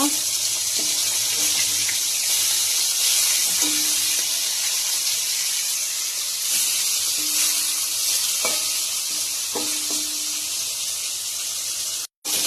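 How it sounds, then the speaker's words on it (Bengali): Pieces of shol fish coated in salt and turmeric fry in hot oil with a steady, bright sizzle throughout, punctuated by occasional clinks of a utensil and a brief dropout near the end. "মাছ 4 পিস নুন হলুদ মাখিয়ে আমি ভেজে নেব"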